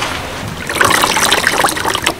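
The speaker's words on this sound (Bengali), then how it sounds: "সেই জন্য ভালো করে ধুয়ে নিতে হবে 2-3 বার" Taro (kochu) leaves are washed in water, a continuous close splashing and sloshing with a brief louder swirl of water in the middle.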